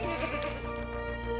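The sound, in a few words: goats bleating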